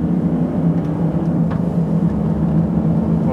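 Heard from inside the cabin, a 2016 Toyota Land Cruiser 200 accelerates at full throttle, its engine a loud, steady low drone with road noise that holds for a few seconds and has no talking.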